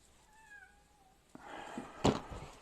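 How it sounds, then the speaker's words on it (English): Cat meowing several times behind a door, a couple of drawn-out meows followed by shuffling and a sharper sound, indoors and fairly quiet. "I'm going to go let the cat out."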